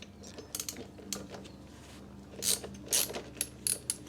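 Ratchet wrench working the fork pinch bolts on a BMW R100GS motorcycle, giving short bursts of quick metallic clicking with pauses between strokes, fairly close and moderately loud.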